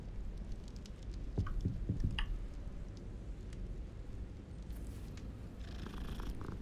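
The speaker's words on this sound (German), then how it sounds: "Erstmal die Katze streicheln." Cat in the Hogwarts Legacy video game purring steadily while being petted in a bedroom, a soft continuous rumble with faint ticks and patter over several seconds.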